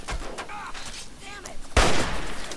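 Gunfire in the video game Fallout 3, a run of sharp shots and bursts with a loud blast near the end, while someone talks over the noise.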